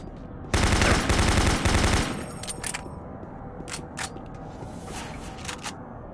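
Loud automatic gunfire from shooting in Doom 3 bursts for about a second and a half, then gives way to a few short, fainter shots and clanks over dark, rumbling game ambience.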